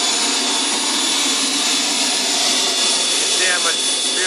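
A small RC turbine engine for an F-105 Thunderchief model jet runs steadily at close range, a loud continuous high-pitched whine and roar that stays even throughout.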